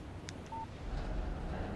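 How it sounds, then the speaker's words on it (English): A short electronic beep from a mobile phone announcing a text message in the video game Alan Wake Remastered, a single thin tone heard once over quiet background ambience. "Text message from Barry."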